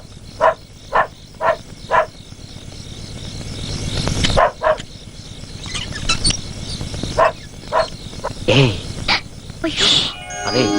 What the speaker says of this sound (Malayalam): ഇരുന്ന് കുരയ്ക്കുന്നുണ്ട്